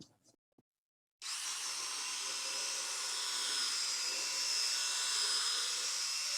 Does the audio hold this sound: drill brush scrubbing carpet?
yes